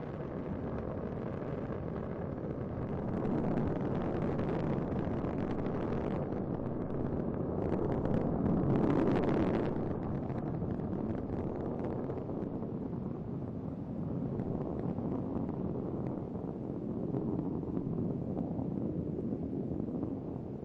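A Space Shuttle Endeavour's rocket engines thunder steadily during the STS-123 launch ascent, a dense, continuous distant roar swelling slightly midway, with no other sounds on top.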